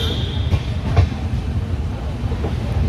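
A crowded Pawan Express passenger train runs between Prayagraj and Kashi, its rails giving a steady, close rumble with faint rhythmic clicks throughout.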